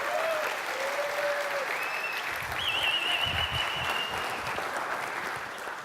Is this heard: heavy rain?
no